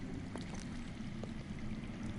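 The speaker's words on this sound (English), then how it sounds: "That's water. I hear water. From underground." Underground water flows in a video game, a faint, continuous low rushing and trickling with a few soft drips or splashes, heard alone without speech.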